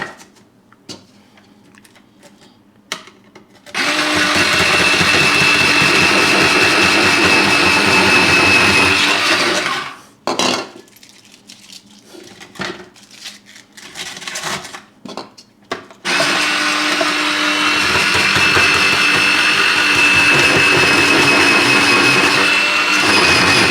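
A Silvercrest SGR 150 E3 electric grater shreds cabbage with a loud, steady motor whine and rough cutting rasp, running in two long bursts separated by a quieter pause with handling clatter.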